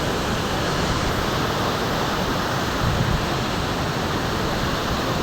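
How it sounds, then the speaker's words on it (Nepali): A river flowing near a Gupteshwar Mahadev shrine, a loud, constant broadband rush of water with no breaks, heard up close and alone. "नदी यसरी बगिरहेको छ"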